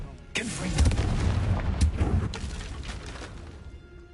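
A fiery Confringo blasting spell goes off in Hogwarts Legacy, one loud booming explosion with a sharp onset followed by a rumbling crash that slowly fades over a few seconds, heard alone.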